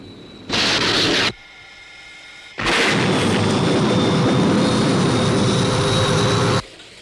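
A jet fires shots at a UFO, heard as a short loud burst of roaring, crackling gunfire, a pause, then a longer sustained roar of fire or blast that cuts off abruptly.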